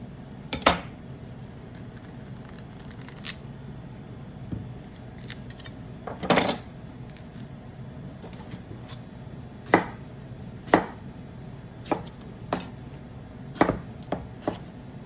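A knife chops peach halves into quarters on a cutting board, giving sharp, separate knocks at an uneven pace, several close together, heard up close with no talking.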